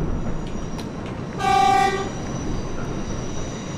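A subway train horn in the video game World of Subways Vol. 4 gives one loud, steady blast of about half a second over a low, constant engine hum.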